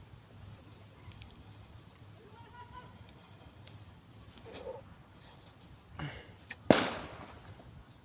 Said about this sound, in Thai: เสียงเด็กมันจุดประทัดกัน